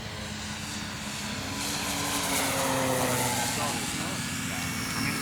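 Hangar 9 OV-10 Bronco 30cc model airplane flying with full flap at about quarter power, a steady, moderately loud engine drone that swells slightly midway, with someone talking over it.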